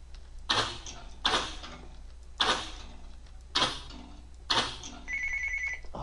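A phone rings five times in even bursts about a second apart over a low background hum, close and clear, with no talking.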